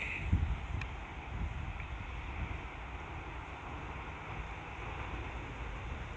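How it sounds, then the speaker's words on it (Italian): Strong wind buffets a DJI Mini 4 Pro drone flying about 150 metres up, a steady, loud low rumble and roar lasting throughout with no voices. "tira un bel vento oggi"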